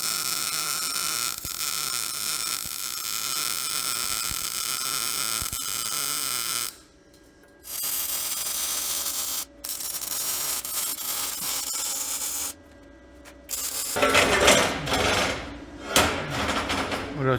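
Steady, loud crackling hiss of wire-feed welding on the frame rail of a Rogue Fab M600 tubing bender, running continuously with a few short pauses between beads.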